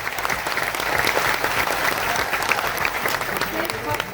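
A large audience at a Shivrajyabhishek ceremony claps loudly and continuously in a dense, steady roar of applause, with voices faintly mixed in beneath.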